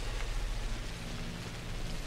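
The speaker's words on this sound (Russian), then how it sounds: "ну последний день и дождь" Steady, soft rain falls in Pathologic Classic HD as an even hiss of drops with a faint low rumble beneath, constant and unbroken throughout.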